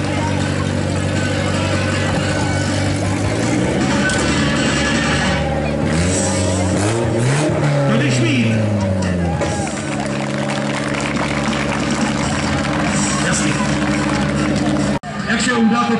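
A stunt team's car circles a track, its engine droning loud and steady with rising and falling revs, heard beneath an announcer talking over a public-address system.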